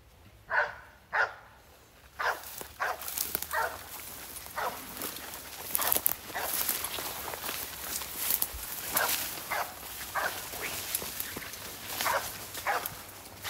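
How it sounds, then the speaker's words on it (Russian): A search dog on a box-search training exercise barks repeatedly in an uneven series of sharp calls at moderate distance, with footsteps and faint outdoor background in between. "Я сниму, как он лает."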